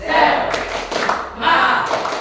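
A group of adults in a classroom setting claps a spirited rhythmic chant, bursts of synchronized claps in patterned phrases with voices calling out alongside.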